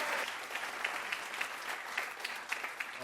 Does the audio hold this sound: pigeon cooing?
no